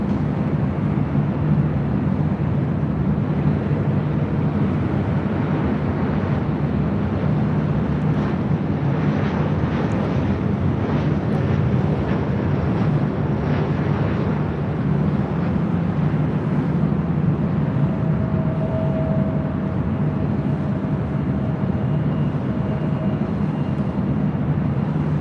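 A Delta Connection Embraer E175 airliner operated by SkyWest arrives at LAX, heard as a steady broad jet roar with wind buffeting, moderately loud and continuous throughout.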